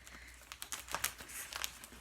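Plastic crinkling and rustling as an Ipsy glam bag in its plastic mailer is cut open, short close crackles and crinkles scattered over about two seconds with no talking.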